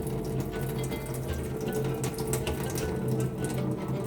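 Cold water runs steadily over strained curds of spoiled milk sitting in a sieve, a close continuous splashing trickle without speech.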